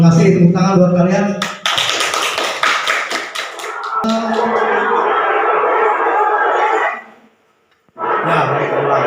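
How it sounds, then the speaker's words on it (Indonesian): A classroom group claps together at a teacher-training lesson, a dense burst of hand claps that swells and holds for a few seconds, with voices talking over and around it before a short pause. "Tepuk tangan buat kalian."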